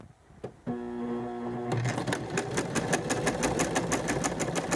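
A sewing machine runs a short line of small stitches for a buttonhole made without a buttonhole foot, opening with a brief whir and then settling into a fast, even mechanical rattle of close needle strokes, near and clear.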